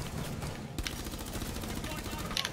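Gunfire in Rainbow Six Siege, a few sharp shots cracking over a continuous low rumble, with people talking throughout.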